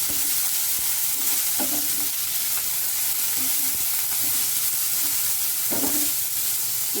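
Momo filling of carrot and capsicum is stirred in a hot frying pan, with a steady close sizzle broken by a few sharper scraping strokes of the spoon.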